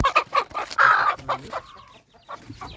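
A hen clucks close by in short, repeated bursts, with a louder squawking call in the middle, then a few softer clucks after a brief pause.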